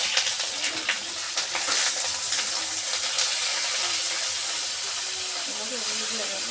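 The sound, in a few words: eggplant pieces frying in hot oil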